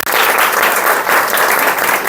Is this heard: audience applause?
yes